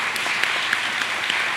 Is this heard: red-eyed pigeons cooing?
no